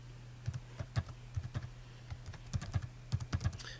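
Fingers typing on a computer keyboard in quick irregular bursts of close, crisp key clicks over a steady low electrical hum, with no voices.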